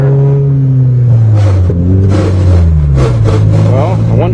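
A Toyota GTS engine revs up and down in rising and falling sweeps while a worn gearbox is tried gear by gear, loud and close inside the car, with someone talking over it.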